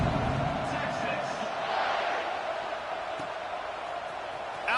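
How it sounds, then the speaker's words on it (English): A football stadium crowd keeps up a steady, dense buzz just after a score, heard beneath a play-by-play commentator's voice throughout. "this crowd is buzzing after that last score"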